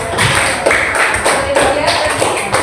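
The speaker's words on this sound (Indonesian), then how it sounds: "Tepuk tangan untuk kelompok 4." Classroom applause for a student group, a dense patter of many hands clapping steadily at close range, with a few louder taps standing out.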